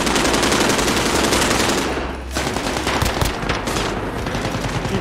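Automatic gunfire in the video game Call of Duty, dense rapid bursts loud and close, with a brief lull midway before the rattling shots resume.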